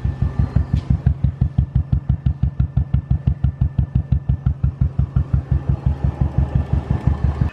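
A modified Royal Enfield Classic 350 motorcycle idling with its steady, loud single-cylinder thump, evenly spaced beats repeating about five times a second, close up and without voices.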